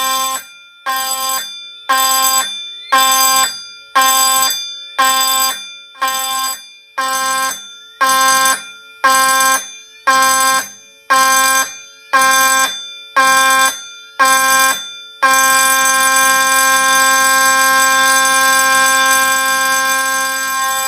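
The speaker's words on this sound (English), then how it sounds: "You'll hear the system switch over to fast pulse and the horn and strobe will activate." An Ansul AutoPulse 2000 fire suppression system's alarm horn sounds loud and close, blaring in about a dozen regular pulses and then switching to one continuous tone, with no voices.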